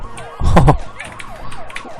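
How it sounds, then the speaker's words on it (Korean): A police car siren in a flash video game about growing mold wails in quick repeating sweeps, loud and close, with a short burst of other game noise near the start. "경찰차 쫓아오는 거 보소"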